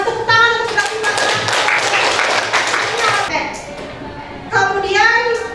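Students clap together in a classroom in a short burst of scattered hand claps, with children's voices chattering and talking over and after it, close and lively.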